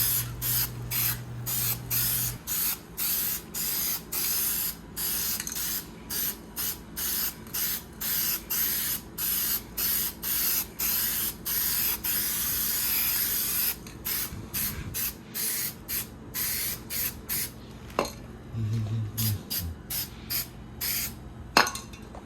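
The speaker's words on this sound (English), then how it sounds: "So go around, spray and cover the whole area." Repeated bursts of hissing from a spray gun applying epoxy paint to a fridge, a steady series of pulses with brief gaps between them, close and loud, with a faint low hum underneath at the start.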